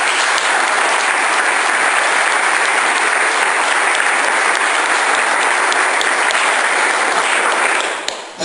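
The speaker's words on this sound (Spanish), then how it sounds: "Tengo un aplauso a Dios por la vida." A church congregation applauding, a loud, unbroken roar of many hands clapping close and continuous for several seconds before cutting off at the end.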